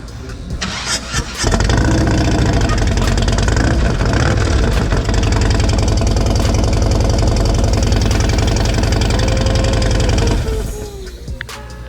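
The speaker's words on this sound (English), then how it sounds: "This is a 2018 Street Glide CVO with the stage 4 tire shredder kit on it on a 117 motor." A 2018 Harley-Davidson Street Glide CVO with a 117 motor and stage 4 tire shredder kit starts up and runs loud and close, a deep lumpy idle with revs for about nine seconds before cutting off.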